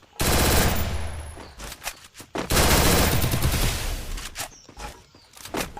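Loud automatic gunfire from SCAR and MP40 rifles in a Free Fire-style battle royale game comes in long rapid bursts broken by short pauses, with shorter volleys toward the end.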